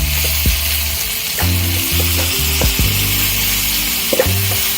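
Garlic fries in a pan with vermicelli for Mexican fideo, a loud continuous sizzle that is broken by repeated scraping and stirring strokes, with no talking.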